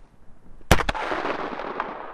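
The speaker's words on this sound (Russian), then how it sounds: "Стреляем по мишени танк на расстояние 200 метров." A sharp, loud rifle shot cracks nearby at a night firing range, quickly followed by a second shot, then a long rumbling echo fades away.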